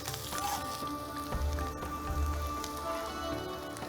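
Steady crackling sizzle of onions frying in hot oil, continuous and close, with no voices.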